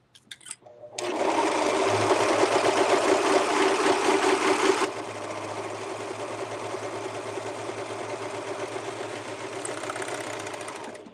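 A serger sewing machine stitches elastic onto fabric, starting abruptly into a fast, loud mechanical whir, then dropping to a lighter, quieter run halfway through, close up with no speech.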